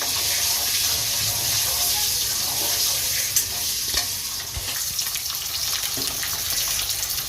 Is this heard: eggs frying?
yes